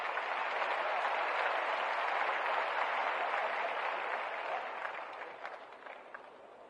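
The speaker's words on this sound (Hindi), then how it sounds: "तालियां बजती रहनी चाहिए," Sustained applause from an audience at a political rally in Bihar, dense and loud throughout, thinning toward the end with a few scattered claps.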